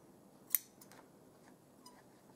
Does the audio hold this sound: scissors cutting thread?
yes